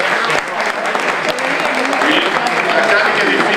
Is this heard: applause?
yes